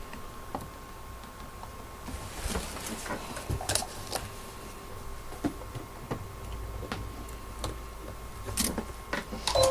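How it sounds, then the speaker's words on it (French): A sewing machine with a walking foot stitches pinned oilcloth along three sides, giving a quiet, rapid mechanical ticking with sharper clacks scattered through. "je me garde le double entraînement, même s'il est bruyant"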